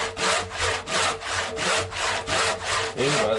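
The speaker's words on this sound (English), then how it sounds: "Kind of neat cutting with a handsaw." A handsaw rasps through wood being cut for a work bench, with about eight even push-pull strokes in a steady rhythm, loud and close with no talking.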